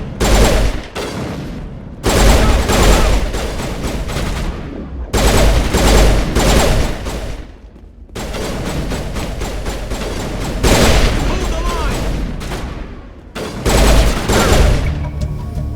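Heavy sustained gunfire erupts in a Mass Effect firefight, loud automatic bursts and volleys crashing in long waves with brief gaps between them, close and intense.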